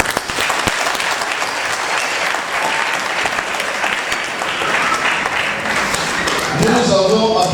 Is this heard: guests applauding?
yes